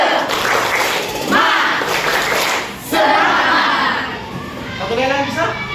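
Classroom group stands and performs a rhythmic clapping chant, the tepuk semangat, with bursts of patterned clapping and shouted chanting from many voices, loud and close.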